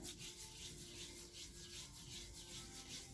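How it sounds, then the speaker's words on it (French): Hands are rubbed together with an exfoliating body scrub in a soft, gritty, rhythmic back-and-forth. The quiet strokes repeat at a steady pace up close, with no voices. "Là, je suis en train de gommer mes mains."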